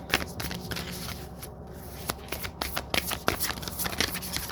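Eternal Crystals Oracle cards being shuffled by hand, a steady run of soft riffling and slapping card sounds up close, moderately quiet with no talking.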